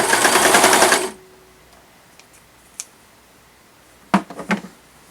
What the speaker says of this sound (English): I have pinned the shoulders, and I'm going to sew